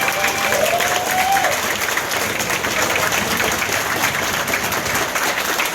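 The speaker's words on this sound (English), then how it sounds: "So please give a round of applause to yourself." Players at an event applaud together in a thick, continuous burst of clapping that holds at a loud, even level throughout, with a faint voice briefly audible early on.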